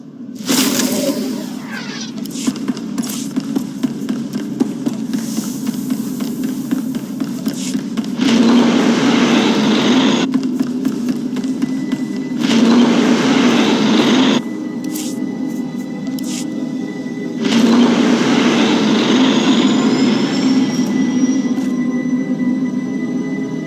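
A shuttle flies to the icy planet Hoth in the game Star Wars: The Old Republic, a steady low engine hum broken by several louder whooshing surges and faint electronic tones.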